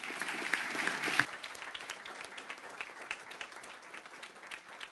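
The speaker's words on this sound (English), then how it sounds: "if I could have a big round of applause for our panelists here" An audience applauds conference panelists at an automated-vehicle assessment session; dense clapping starts loud, then thins into scattered, lighter claps that continue steadily to the end.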